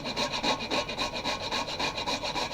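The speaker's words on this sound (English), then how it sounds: "Grate the nutmeg," A whole nutmeg scraped against a grater for a gratin dauphinois, a steady series of quick rasping strokes, close and fairly soft, with no talking.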